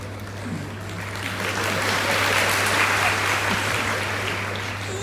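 An audience applauds a speaker at a Malayalam talk, the clapping swelling into a dense, sustained wash and easing slightly toward the end, heard from a moderate distance with no clear voices.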